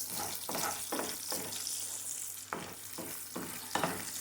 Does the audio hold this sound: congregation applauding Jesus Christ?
no